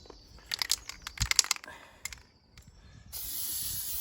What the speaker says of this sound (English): We'll just spray the outside with copper grease.